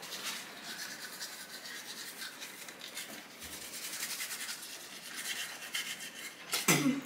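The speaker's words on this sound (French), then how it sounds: "Allez, on frotte bien, on frotte bien, on frotte bien. On frotte de partout." Children brush their teeth at home, producing close, continuous scrubbing and rubbing with a faint hiss, ending in a short clatter.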